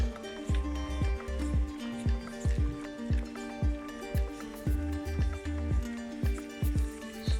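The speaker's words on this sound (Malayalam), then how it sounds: "ബ്രിഡ്ജ് തട്ടി കാലയിലേക്കൊക്കെ വെള്ളം വീഴുന്നുണ്ട്" Water waves slap against a small bridge in a series of close, rhythmic splashes and plops, each followed by dripping, repeating roughly every half second.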